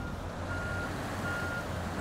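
A truck in the SnowRunner video game sounds its reversing alarm, steady repeated beeps over a low engine hum at moderate level, with no talking.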